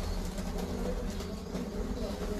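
Breeder pigeons, including a Teddy pigeon pair with their young, coo softly in low, murmuring tones against a steady background hiss, faint and continuous throughout.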